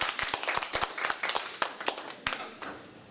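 An audience claps together in a burst of sharp, uneven hand claps at a persuasive speech about drought, fairly close and fading slightly toward the end, with no talking.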